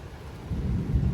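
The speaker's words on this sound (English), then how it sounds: "oh, there's the rain." Rain from a severe thunderstorm with strong wind gusts in Frisco, Texas, a dense low rushing roar that grows louder partway through, with no voices.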